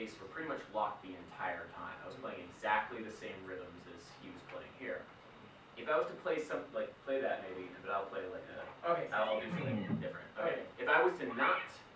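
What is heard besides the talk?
No everyday noise stands out behind the speech.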